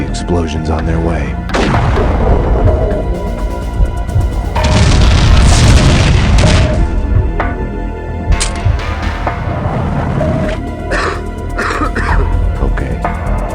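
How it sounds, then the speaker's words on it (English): Max Payne 2 video game sound effects lay loud explosions and booming gunfire over a shootout, heavy blasts rolling one after another with crashing debris, dense and close, with brief shouts in between. "I had to help the explosions on their way."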